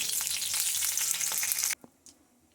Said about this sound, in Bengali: প্রথমে একটু কড়াতে তেল দিয়ে দিলাম তারপরে গোটা জিরে ফোড়ন দিলাম আর তেজপাতা ফোড়ন দিলাম